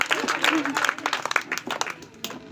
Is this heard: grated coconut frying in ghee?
no